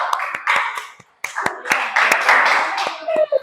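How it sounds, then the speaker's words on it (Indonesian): A classroom group claps for the first student group, a burst of uneven, overlapping hand claps that fades, then picks up again briefly, with children's voices chattering underneath. "Tepuk tangan untuk kelompok 1"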